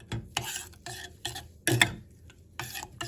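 Ground cardamom being stirred into vermicelli pudding in a pot, a series of soft scraping and tapping strokes in irregular rhythm, close and fairly quiet, no speech.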